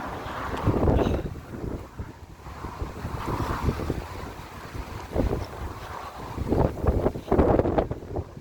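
Strong gusts of wind buffet the microphone outdoors between Alness and Invergordon, Scotland, in rough, surging bursts, roaring louder and easing off repeatedly, with no one speaking.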